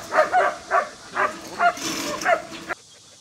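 A young female German shepherd at a breeding farm makes a quick series of close, rhythmic panting huffs and short whimpering sounds, about eight pulses in under three seconds.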